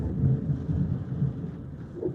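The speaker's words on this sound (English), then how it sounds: "Y'all, can you hear the storm?" Thunder from an Arizona storm rumbles low and heavy across the stretch, a rolling distant growl with a brief swell near the end, with faint rain underneath and no voices.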